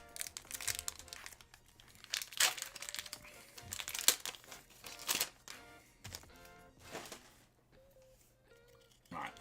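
A Pokémon card box is opened with repeated crinkling and crumpling of packaging, rustling bursts and tearing rising and falling in uneven clusters throughout.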